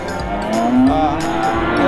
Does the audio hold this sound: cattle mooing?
yes